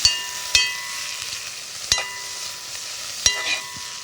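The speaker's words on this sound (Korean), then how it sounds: "다진 마늘 넣고 요거를 이제 달달달달달달 볶아요." Dried pollack and minced garlic stir-frying in a pan, a steady soft sizzle with a few sharp utensil knocks against the pan at regular intervals, close and fairly quiet, no talking.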